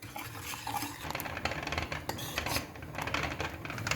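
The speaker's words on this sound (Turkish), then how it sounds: "Yoğunlaşana kadar karıştıracağım bunu" A utensil stirs a thickening starch mixture in a pot on the stove, giving a continuous close scraping and rubbing against the metal with faint clinks, and no voices.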